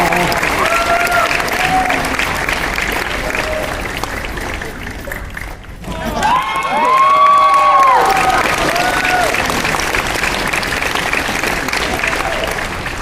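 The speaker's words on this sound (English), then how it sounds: "Can we give a big round of applause to all the cosplayers?" An audience at the 2015 Bronycon cosplay contest breaks into loud, sustained applause and cheering, with whoops and scattered shouts rising to a peak midway before the clapping carries on steadily.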